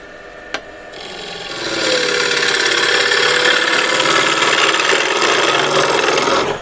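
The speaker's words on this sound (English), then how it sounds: "So hopefully you can see how we're peeling the wood." Wood peeled away while shaping a rough-out bowl, with one sharp knock, then a continuous loud rasping scrape that runs steadily for several seconds before stopping abruptly. No voices.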